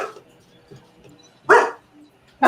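A puppy gives two short, sharp barks about a second apart, close and fairly loud, with faint background noise between them in an otherwise quiet indoor room.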